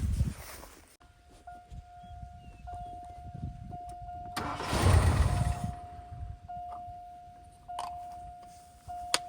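A 1980 Lincoln Continental engine cranks and fires up, then settles into a steady idle with a constant hum, a louder surge midway and a few sharp clicks and knocks around it.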